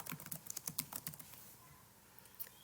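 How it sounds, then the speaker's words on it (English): Keys on a computer keyboard tapped in a quick irregular burst of close, light clicks while a full name is typed, then a pause and a final couple of taps. "So I'm going to create an account and type in my full name"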